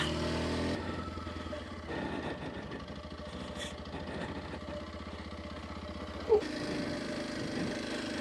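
A Kawasaki KLX230S motorcycle engine putters steadily at a low idle, fairly faint and a little distant, with a brief sharp knock near the end.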